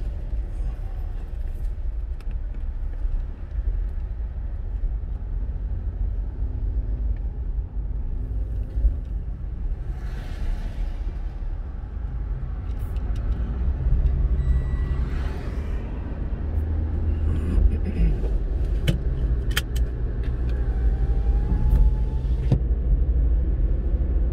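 A car drives south on Highway 400 in winter fog, with a steady, loud low road rumble and engine drone throughout, a few faint passing swells, and no talking.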